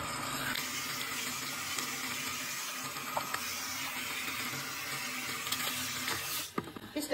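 Running water from a salon sink tap rinses shampoo out of a client's hair, a steady close splashing flow that continues throughout with a brief change near the end and no speech.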